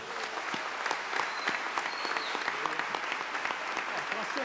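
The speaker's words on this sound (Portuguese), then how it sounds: "E as palmas louvam ao Senhor Jesus." A church congregation claps together during a formal revival service, dense, fairly close applause with sharp individual claps standing out, lasting the whole stretch without speech on top.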